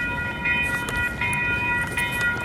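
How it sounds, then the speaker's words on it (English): A train rolls past with a steady, loud rumble and rail noise, holding at a constant level with no talking. "And here comes a train."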